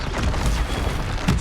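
A Confringo blast spell in Hogwarts Legacy lands as a short, loud, dense booming burst that fills the whole moment.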